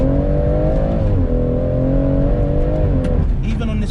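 A BMW M140i engine drones steadily from inside the cabin while driving over a bumpy road, a continuous loud hum with slight pitch shifts as the revs change, plus a few knocks and rattles toward the end.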